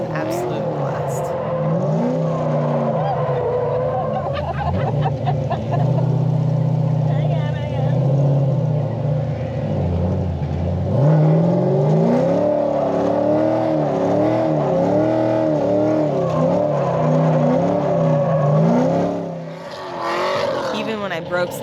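A drift car's engine revs hard and wavers through a drifting run, rising and falling in pitch over a steady loud drone, with a brief dip near the end.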